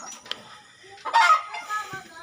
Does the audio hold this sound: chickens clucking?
yes